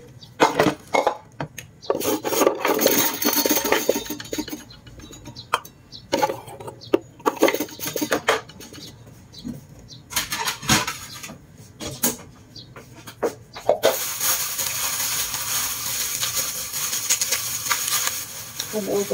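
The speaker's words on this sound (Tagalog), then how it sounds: "Haluan ko lang siya dito." A spoon rubs and scrapes against a cooking pot as mung bean stew is stirred, with irregular wooden scraping strokes, a steady bubbling hiss toward the end, and people talking in the background.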